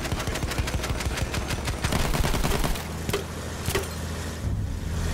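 Rapid bursts of automatic gunfire and single shots in Battlefield 1, dense rattling volleys in the first few seconds, then sparser, more distant shots with no talking.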